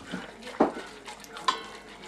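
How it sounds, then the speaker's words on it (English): A sugar and pectin mixture being stirred in a pot, heard as a few soft scraping strokes with two sharper knocks of the utensil against the pot, close and quiet. "Mix that all around."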